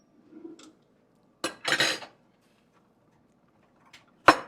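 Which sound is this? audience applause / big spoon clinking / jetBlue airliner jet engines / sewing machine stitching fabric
big spoon clinking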